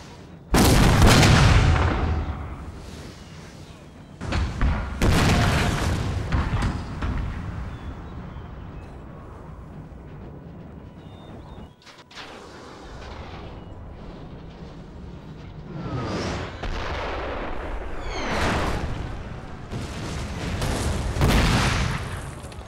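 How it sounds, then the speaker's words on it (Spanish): Artillery battery firing in Napoleon Total War during a battle defending Spain: loud, heavy booming cannon volleys in several bursts with rumbling echoes between them, no talking. "Disparen cuando estén listos. Batería a la orden."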